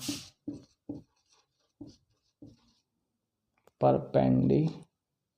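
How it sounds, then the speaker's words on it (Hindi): Writing on a board, a series of short separate scratchy strokes in an uneven rhythm, close and clear, followed by someone speaking. "फिर क्या लिखूँ, पेरीमीटर लिख देता हूँ"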